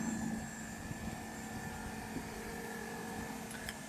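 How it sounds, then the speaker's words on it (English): A BMW i3's air conditioning compressor runs as a steady, faint mechanical hum with a constant whine, and high-pitched cicadas drone in the background. "Once the air conditioner starts running, you can hear the compressor in the back,"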